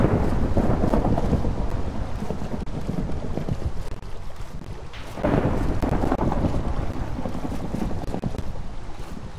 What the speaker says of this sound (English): I almost died by lightning.